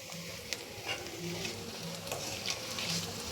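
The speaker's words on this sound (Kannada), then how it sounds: "ಬೆಳ್ಳುಳ್ಳಿನೂ ಚೆನ್ನಾಗಿ ರೋಸ್ಟ್ ಆಗಬೇಕು" Garlic sizzling in hot oil in a tempering pan, a soft steady frying hiss broken by light stirring scrapes, close but fairly quiet with no voices.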